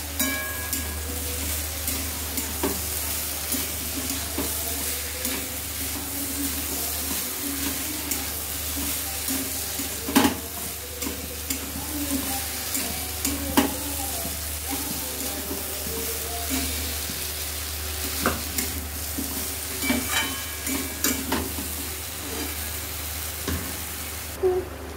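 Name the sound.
chickpeas and potatoes being stirred and fried in a pan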